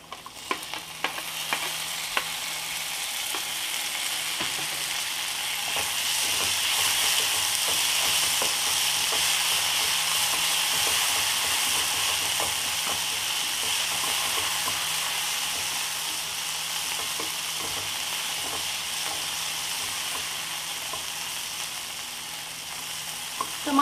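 Tomatoes and spices fry in a pan for rava upma, starting with a few stirring knocks, then building to a steady, close sizzle that fades slightly toward the end.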